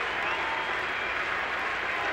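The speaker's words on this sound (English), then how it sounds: "Crowd trying to get back into it." A baseball crowd at a ballpark during a 2001 MLB playoff game, Arizona at St. Louis, producing a dense, steady roar of cheering and clapping from a large distant crowd, sustained without breaks.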